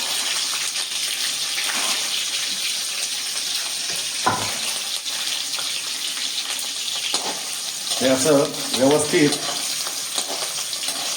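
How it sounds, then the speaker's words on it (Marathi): Green chilies and cumin seeds sizzling in hot ghee for a fasting-day misal tempering, a steady close hiss with a brief knock midway and a voice speaking briefly near the end. "ते तूप गरम झालेलं आहे तेव्हा याच्यावरती आपण या मिरच्या टाकलेल्या आहेत बरोबर आणि त्यानंतर हे जिरं टाकलेलं आहे"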